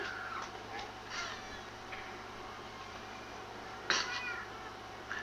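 Faint meows from a cat come and go over a constant background hum, with one louder call near the end.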